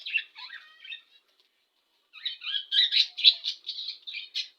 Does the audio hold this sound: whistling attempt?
no